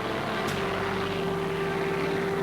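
A propeller cargo aircraft, of the kind that towed wartime glider airplanes, drones steadily overhead in a continuous, even engine hum with a low throb, heard alone without talk.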